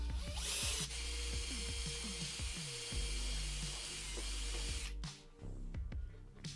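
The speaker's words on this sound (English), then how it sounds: "Then I could drill 2 pilot holes ready for the fixings." A power drill bores pilot holes into pallet wood through a small jig, a loud high whine that runs steadily for about four seconds and then winds down, with clicks and knocks from the work around it.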